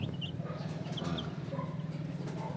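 Young chicks being raised for fiesta sales cluck and peep continuously at close range, a busy overlapping flock chatter with soft chirps rising above a steady low hum.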